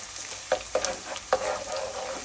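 Chana dal and garlic fry in a pan over medium heat for cluster bean vangibath, with a continuous close sizzle and a few clinking stirs of a spoon against the pan.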